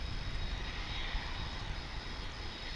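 Airplane taxiing at DFW International Airport, a continuous far-off aircraft engine whine and rumble at steady loudness, alone without speech.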